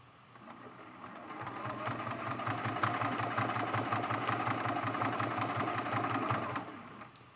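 A sewing machine stitching across a mug rug from one applique to the next runs in a fast, even rhythmic chatter for several seconds, close and clear, then stops.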